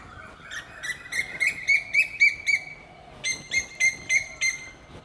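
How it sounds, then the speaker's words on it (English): Birds singing around a temple in Ayutthaya, Thailand: two clear runs of repeated high, whistled chirps, fairly close and loud against a quiet outdoor background, with no talk. "you have these birds singing all around this place"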